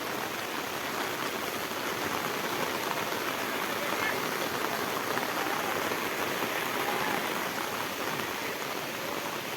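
Light rain falls outdoors during a fishing trip, a dense even hiss that continues without a break, with a faint murmur of voices underneath.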